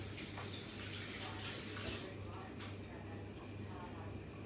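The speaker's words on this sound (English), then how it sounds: "Wash my hands." Hands are washed under a running tap, a steady close rush of water with a constant low hum in the background.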